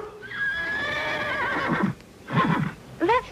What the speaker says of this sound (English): That's just my horse Nightmare